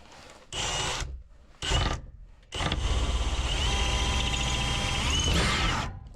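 A power drill whirs in two short bursts, pauses, then runs steadily for several seconds close by before stopping.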